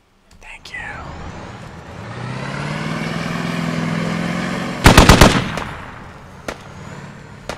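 Automatic gunfire rings out in a Squad firefight, a tight burst of rapid shots near the five-second mark over a steady rumbling vehicle drone, with one more sharp shot shortly after and people talking.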